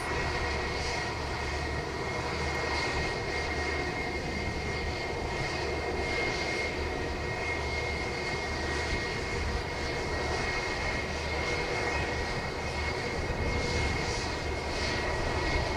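A Spirit Wings airliner at Montego Bay, cleared for takeoff on runway 07, holds a loud, steady engine roar with a sustained high whine. The sound stays even throughout, and no one speaks.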